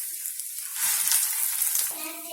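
Bread rolls sizzle and crackle steadily in hot cooking oil, a dense, loud frying hiss with faint stirring, growing slightly busier midway.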